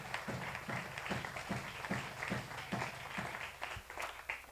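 A church congregation claps in rhythmic, evenly spaced beats, faint and somewhat distant, with a steady pulse running throughout.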